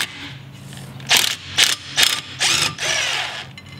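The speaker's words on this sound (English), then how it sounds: "Even with this impact driver, it won't remove it." An impact driver working on a brake rotor bolt: several sharp, loud bursts of rattling hammering, the last one longer, separated by short pauses, close up.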